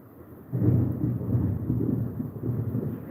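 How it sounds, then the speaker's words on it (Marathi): Heavy monsoon downpour in Latur, Maharashtra, with thunder: a steady low roar of rain that swells loudly after a quieter start and keeps rumbling without any voices. "बघा लातूर मुसळधार पाऊस पडत आहे"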